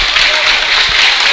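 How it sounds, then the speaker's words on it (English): A home crowd at a Monterey high school basketball game claps steadily in a gym, a dense, even wash of applause that holds at the same level throughout. "Monterey crowd is clapping."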